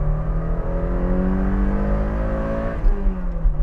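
A Toyota sports car engine with a 7,000 RPM redline revs up in a raspy, rising whine, pitch climbing smoothly before a brief dip and renewed throttle near the end, loud and close.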